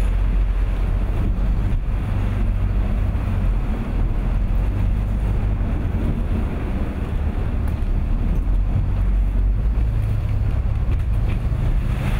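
Loud, relentless rumble of a Princess V39 motor yacht pounding through rough open sea off Norway, engine drone mixed with heavy wind buffeting and surging water as green waves break over the bows, continuous throughout with no voices.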